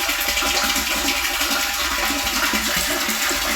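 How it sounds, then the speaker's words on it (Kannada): Water rushes out as an electric pump switched by an automatic float-switch water level controller runs, a loud steady gushing flow over a low constant hum. "ಮೋಟ್ರಿಂದ ಮೋಟ್ರ್ ಆನ್ ಆಗಿ ನೀರು ಬರೋ ಶುರುವಾಗಿದೆ"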